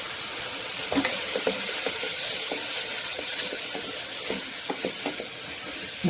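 Spiced vegetables with Kashmiri red chilli and kitchen king masala sizzle loudly and steadily in a pan, while a spoon stirs them with intermittent scraping knocks.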